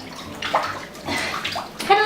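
Water sloshing and gurgling inside a silicone mermaid tail as it is pressed and scooped, with several wet splashy bursts close up and a brief voice-like sound near the end.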